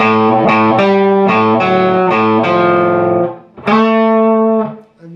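Distorted electric guitar plays a walk-down into the lead: a run of punchy, saturated notes descending step by step, a brief gap, then a long sustained note cut off near the end, loud and close with no voices.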